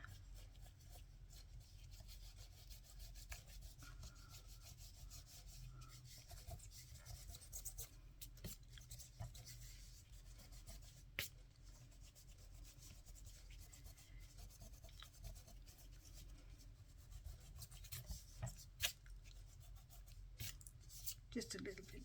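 An eraser rubbing back and forth over grey marks on paper, a soft, faint, papery scrubbing that comes in short strokes and brief bursts, close and quiet throughout.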